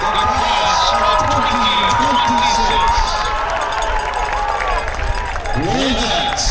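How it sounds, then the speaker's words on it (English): A large crowd in the stands at a Stoughton vs Quincy high school football game applauds and cheers for the seniors, a steady roar with an announcer's voice over it. "let's hear a large round of applause for our seniors"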